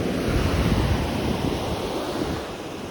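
Sea waves wash up the beach at Achra in a loud, continuous rush of surf, with wind buffeting the microphone and no talking.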